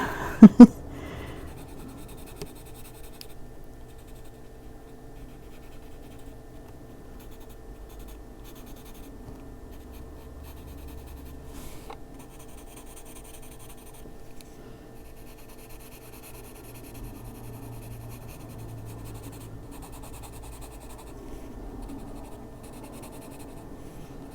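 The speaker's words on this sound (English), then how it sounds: "Maybe I'll just erase those two." A pencil eraser rubs steadily back and forth on paper while a page is coloured, a soft, faint, continuous scrubbing texture that carries on with no talking.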